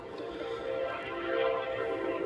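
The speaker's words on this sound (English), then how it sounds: "There's a train, I guess." A train rumbles past at a distance, a steady low drone with faint tonal hum that swells slightly and stays constant, with no voices over it.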